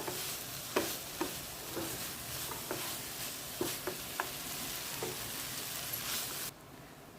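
A spoon stirs fried cashews into a meal maker masala curry in a pan, giving soft repeated scrapes and taps over a steady low sizzle that cuts off abruptly near the end.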